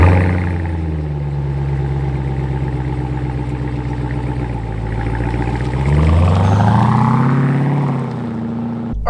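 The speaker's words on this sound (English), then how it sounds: "let's go jump in this thing, go out and drive it, and see how a 700 plus horsepower Durango feels on the road" A 2021 Dodge Durango Hellcat SUV with 710 horsepower drives on the road, its engine droning steadily and loud, then rising in pitch as it accelerates near the end.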